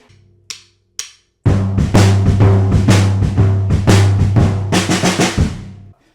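Drum pattern from a song: two isolated hits, then a steady driving groove of kick, snare and cymbals with sustained low tones, loud and close, no talk.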